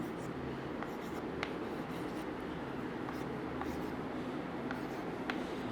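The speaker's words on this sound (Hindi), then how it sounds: "तो हम लिखते हैं यहाँ पर की पॉइंट्स।" A pen scratches out key points on paper for a study lesson, faint intermittent strokes and taps over a steady room hum.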